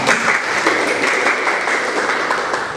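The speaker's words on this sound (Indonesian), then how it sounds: "Tepuk tangan." A classroom of students applauds a classmate for a correct answer, a loud, close, continuous burst of many hands clapping with no one speaking.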